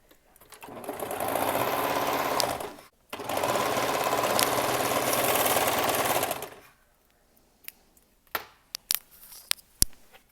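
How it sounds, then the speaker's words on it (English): A sewing machine runs in two long steady bursts, stitching side and shoulder seams of a garment, each run several seconds with a short pause between, followed by a few scattered clicks and handling knocks. "I'm going to sew up both side seams and across both shoulder seams"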